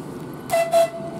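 A Southeastern Class 395 train departs Ashford International for London St Pancras, sounding two short, close horn toots over a low rumbling background.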